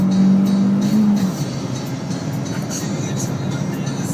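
Close, loud steady drone from a Fiat Uno Sporting race car engine lapping a track day circuit, dropping slightly in pitch partway through before holding constant.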